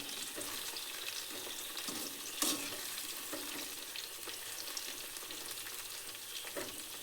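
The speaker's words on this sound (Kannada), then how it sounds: "ಸೊ ಕೆಂಪಾಗೋವರೆಗೂ ಇದನ್ನು ಚೆನ್ನಾಗಿ ಫ್ರೈ ಮಾಡ್ಕೋಬೇಕು" Cauliflower (gobi) pieces fry steadily in hot oil for a crisp dry snack, a continuous close sizzle broken by occasional scrapes of a spoon or spatula, with no voices.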